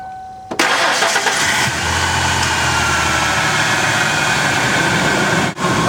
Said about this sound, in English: Okay, so we started the vehicle.